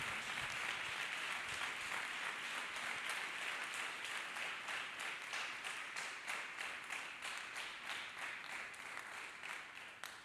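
A church congregation claps for Jesus Christ in dense, sustained applause, with many hands beating a steady, slightly rhythmic patter that fades a little toward the end.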